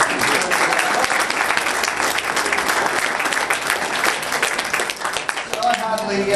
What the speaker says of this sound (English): So Ben, first of all, we'll give him a round of applause.